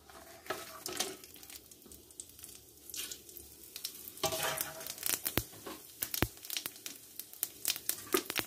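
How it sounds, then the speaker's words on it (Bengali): Cardamom, cinnamon, bay leaf and cumin fry in a little hot oil, giving a soft sizzle with sharp crackling pops that grow more frequent toward the end. "আমি তেলে দেব হচ্ছে এলাচ, দারচিনি, তেজপাতা, জিরে"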